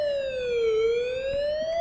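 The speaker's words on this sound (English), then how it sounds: "in an ambulance, I believe. Yellow ambulance." A yellow ambulance's siren in a Fortnite Creative horror hospital map wails in one slow, smooth pitch sweep, falling and then rising again, loud and steady, with no voices over it.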